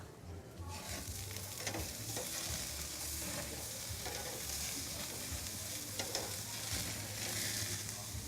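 Steaks sizzle and fry steadily in a hot pan while cooking on their second side for medium rare at a bistro, a continuous close crackle with occasional stirring or scraping and no talk.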